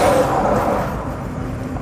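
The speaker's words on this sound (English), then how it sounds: "Check these trucks how they throw up the coal dust." Trucks drive past on a coal mine road near Ogies, Mpumalanga, South Africa, throwing up coal dust, heard as a loud, steady rumble of heavy engines and tyres close by from a passing vehicle, with no talk.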